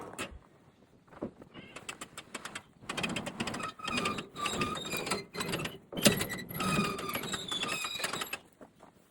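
The flywheel of a John Deere 14T baler turns slowly through its knotter, fitted with upgraded tucker fingers, making a near, loud run of rapid metallic ratcheting clicks and clatter in several bursts with short pauses and no speech.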